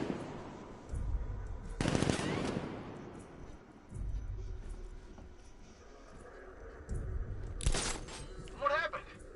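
Bursts of gunfire in the Batman Arkham Knight game, two loud sharp volleys a few seconds apart with shattering crackle, set among quieter game sounds, rumble and a brief voice-like warble.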